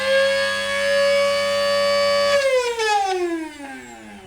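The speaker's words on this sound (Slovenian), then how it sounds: "No, tako se sliši zdrav mlinček." A repaired angle grinder, freed from a jammed drive, spins at high speed with a loud, steady high-pitched whine, then the tone slides downward as it switches off and winds down, fading away alone without talk.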